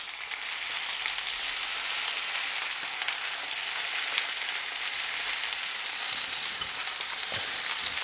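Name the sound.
fish frying in a pan on low heat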